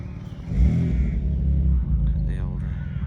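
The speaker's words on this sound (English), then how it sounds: "here we've got a Porsche Spider T1" Porsche Spider T1 rolling into a grassy field at an outdoor car show, a deep low engine rumble with a mild rev, close and steady, with someone talking over it.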